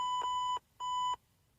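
A phone lets out two short electronic beeps, each about half a second long and separated by a brief pause, clear and close with no voices.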